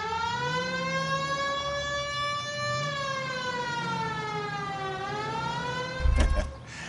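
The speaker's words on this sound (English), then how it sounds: "Hit the siren." Police car siren in a video game wails in long rising and falling sweeps, loud and close over engine rumble, followed by a brief thud near the end.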